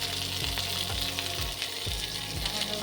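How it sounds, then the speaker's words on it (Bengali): Bean pieces frying and being stirred in a pan for a chicken stew, a loud constant sizzle with a spatula scraping the pan in regular strokes, no talk. "বিনসের টুকরো নেড়ে নিচ্ছি।"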